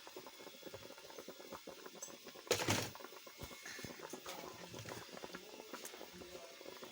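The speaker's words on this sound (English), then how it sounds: "Now that the pot is boiling" A pot of cabbage and okra soup boils quietly, giving a faint, steady bubbling and popping patter with one brief louder clatter early on.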